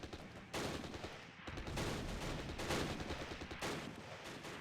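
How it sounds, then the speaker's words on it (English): Mortar shells and gunfire in the Close Combat war game at Arnhem rail bridge, a sustained crackling volley of bursts and booms starting after a short lull, dense and fairly loud throughout. "Might as well give them a mortar shell or 2."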